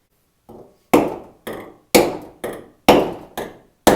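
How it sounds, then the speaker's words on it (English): A hammer pounds down cut sheet metal under a car hood, with six sharp metallic blows at an uneven pace, each ringing briefly, in an otherwise quiet space. "I'm gonna try to hammer these down."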